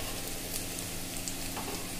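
Onion and chopped green chillies frying in a pan, giving a steady, close sizzle with faint stirring and no voices.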